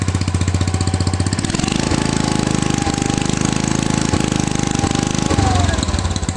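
An MTZ tractor engine runs close by with a loud, rapid diesel chug, revving under throttle with a rising whine before settling back.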